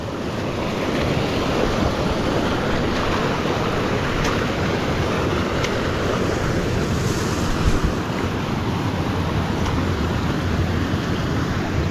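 Strong floodwater rushes through a creek in a steady, loud, broadband roar that carries on without pause, with buffeting wind noise on the microphone.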